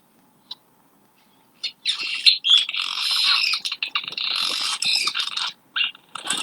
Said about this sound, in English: The cliff swallow sounds like.